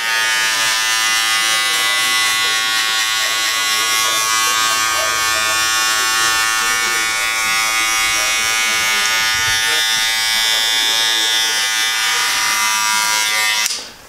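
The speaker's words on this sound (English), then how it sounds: "I'm gonna let this clipper cool off a little bit" An electric hair clipper buzzes steadily and loudly close by during a boy's haircut, a continuous motor drone with bright high harmonics that runs nearly the whole time before cutting off abruptly at the end.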